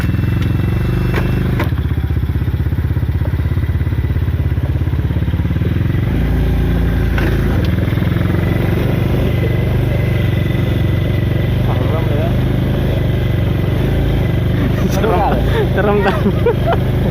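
A motorcycle engine runs roughly, a loud, harsh, continuous drone with clattering and thumps as it rides on a mountain tourist route, while people talk over it throughout.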